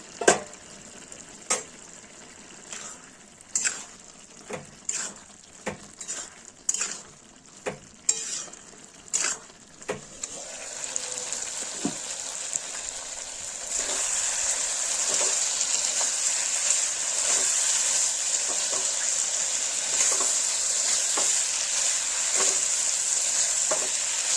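Chicken and bottle gourd curry is stirred in a pan on a gas stove, first with a dozen irregular spoon scrapes and clinks over a soft simmer, then with a louder, steady sizzle and occasional stirring knocks.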